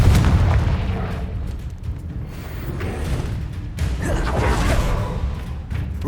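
Confringo blasting spells from Hogwarts Legacy go off as booming magical impacts with crackling bursts, several blasts in a row over a rumbling game soundscape, with no talking.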